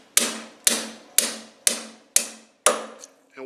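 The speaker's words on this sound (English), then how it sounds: "you strike it with a hammer" A hammer strikes a loaded grease gun held on a Zerk fitting, making six sharp metallic blows at an even half-second rhythm, close and distinct, each decaying quickly.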